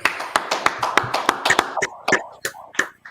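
A group of men claps in unison at a brotherhood class in North Carolina: a steady run of sharp, fairly close claps that loosens into a few sparser, uneven hits near the end, with no talking.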